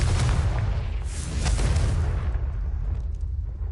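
A Confringo blasting spell detonating in Hogwarts Legacy, a loud deep boom with rolling low rumble that fades over a few seconds.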